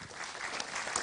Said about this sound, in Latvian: Lūdzu, aplausi.